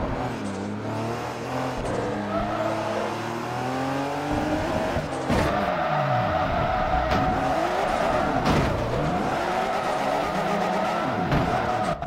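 Race car in the video game Forza Motorsport 3 during an R2-class lap, engine revving up and down continuously with shifting pitch and tire squeal, loud and steady throughout, with no talking.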